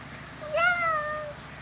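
A girl imitates a cat with a single drawn-out meow, close and clear, rising then gently falling, in an otherwise quiet room.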